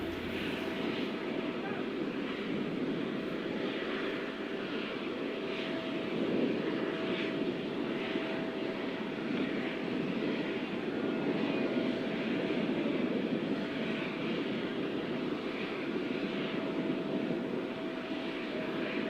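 An airplane carrying India's Prime Minister sits at an arrival ceremony, a steady broad engine roar and whine droning throughout at constant level, with people talking over it.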